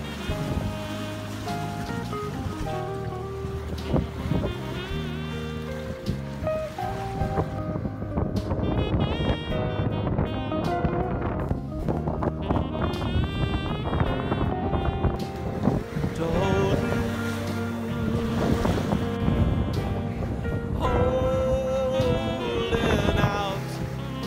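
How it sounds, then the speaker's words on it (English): Strong 30-knot wind and rushing waves buffet a small trailer sailboat crossing Whitsunday Passage in Queensland, a loud unbroken roar of wind and water that lasts throughout. "In the centre of Whitsunday Passage, the wind hits 30 knots, with Neringa taking it all in her stride."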